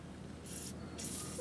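An aerosol spray can sprays cleaner onto old, blown car shocks in two loud bursts of hissing, close to the microphone, with no talking.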